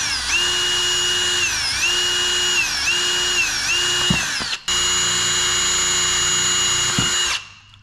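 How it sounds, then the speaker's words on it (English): A loud power drill whines steadily while drilling holes in carbon fiber, its pitch dipping slightly several times as it bites in, stopping briefly before running again and winding down. "So I'm going to drill these out right now."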